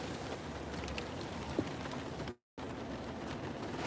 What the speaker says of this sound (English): It's really raining cats and dogs out here.